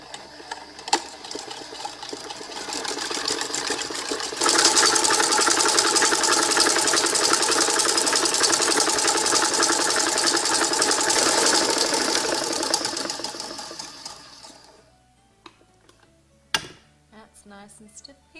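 An electric mixer whips egg whites with a pinch of salt as custard sugar goes in for peppermint macarons, a steady motor whir that intensifies midway, runs loud and continuous, then winds down and stops near the end.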